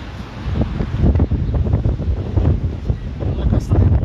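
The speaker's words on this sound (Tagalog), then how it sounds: "Ang lakas ng hangin" Strong wind buffeting the microphone outdoors, a continuous rough low rumble with gusty surges throughout, loud and close, with no clear speech over it.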